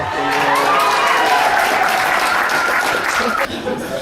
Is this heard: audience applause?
yes